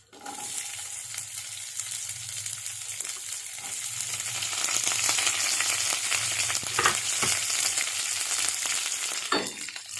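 Chopped onions fry in oil with urad dal in a pan for a home breakfast, giving a steady close sizzle that swells midway, with occasional soft scrapes and clinks of a spoon and no talking.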